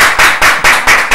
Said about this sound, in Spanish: vamos a aplaudir porque hoy vino un invitado que es Pablo Izaguirre